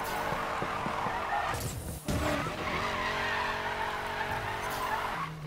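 Tire skid and drifting from a car in the racing game Need For Speed Payback, a sustained engine roar with squealing tires running loudly and continuously, briefly dipping near the middle before carrying on.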